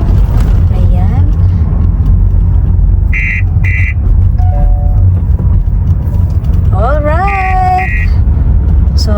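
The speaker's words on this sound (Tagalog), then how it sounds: "So tumutunog po yung sensor po ng ating sasakyan." A hybrid car's proximity sensor beeping at a toll gate, short repeated electronic tones in a few clusters over steady road and engine noise, with someone speaking briefly.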